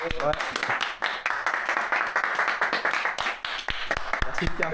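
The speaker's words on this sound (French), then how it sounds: "On va applaudir s'il vous plaît quand même les gars." A small group claps in quick, uneven bursts during a trip in Tokyo, the sharp hand strikes mixed with people talking throughout.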